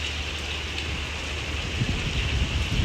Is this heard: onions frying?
no